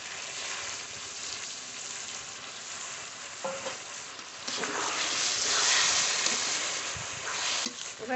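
Chicken being fried with dried red chilli paste in a pan sizzles steadily, then surges into a louder, broader hiss and crackle midway as a splash of dishwater is added, with stirring throughout.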